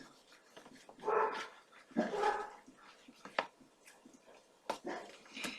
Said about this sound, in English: Oh, there goes the dogs.